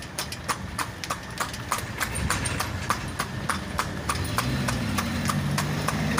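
Horse hooves clip-clopping steadily and evenly as the horse pulls a delman carriage around Alun-Alun Kidul near Kraton Surakarta, close and clear over a low background hum.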